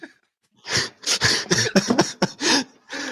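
A burst of repeated coughing, several harsh close coughs in quick succession after a brief silence, with throat clearing between them.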